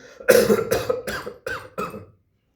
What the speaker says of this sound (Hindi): खांसा हमने